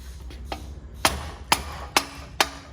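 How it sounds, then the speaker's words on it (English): Several sharp metallic hammer blows land at a steady pace, a few quiet taps followed by four louder ringing strikes, close by with no talking, as a big hammer loosens an oxygen sensor on a BMW R 1200 GS motorcycle. "We're gonna use our percussive maintenance device here, which is also known as a big hammer."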